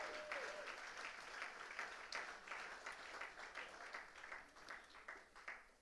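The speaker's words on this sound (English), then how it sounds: "Let's give the Lord a good hand clap of praise." A church congregation claps hands together in praise, a dense, steady wash of many hands sustained throughout at moderate volume with no voices over it.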